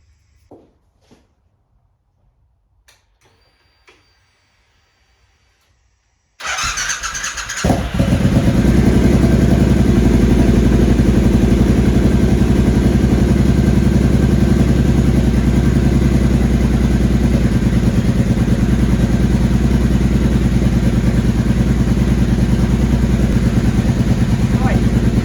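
A Triumph Bobber motorcycle fires up after a few faint clicks and then runs loud and steady at a close, rough idle, the engine note dense and continuous until the end.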